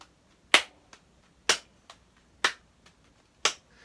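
A juggler claps his hands between throws: four sharp, crisp claps spaced about a second apart, each followed by a fainter soft tap, close and alone with no talk.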